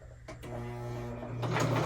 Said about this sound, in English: we've got a stitch going, baby. It looks like it's stitching right here